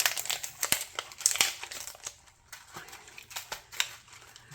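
Packing tape is peeled and torn off a package holding a resin Christmas tree, giving close, sharp crinkling and ripping bursts in quick irregular runs with short pauses between them.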